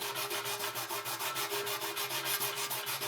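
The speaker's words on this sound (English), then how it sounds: "Something to keep in mind when you're sanding is to go back and forth, up and down, and then around in circles like this." Sandpaper is rubbed over a vintage dirt bike fuel tank during dent repair, giving a steady, close, rhythmic scratching with quick back-and-forth strokes and no talking.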